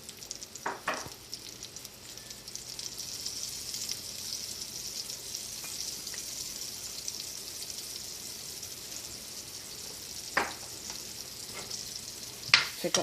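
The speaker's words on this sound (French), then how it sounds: "Fait qu'on va laisser cuire notre oignon." Onions frying and sizzling in a pan, a steady broadband hiss with a few louder crackles and stirring clicks near the start and end, close and alone with no talk.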